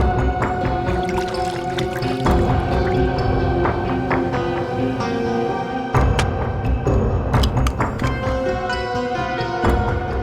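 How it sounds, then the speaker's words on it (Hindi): Water poured into a bottle, a continuous gurgling, splashing stream with scattered drips and sloshes that carries on throughout, close and clear with no talking. "भी जरा इसमें पानी भर।"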